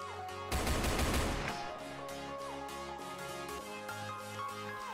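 Rapid gunfire in a video game, a loud dense burst of shots in the first second or so, followed by steady game music and effects with no talking.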